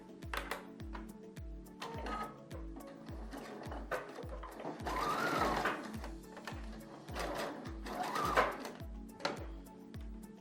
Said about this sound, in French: je vais refaire la même piqûre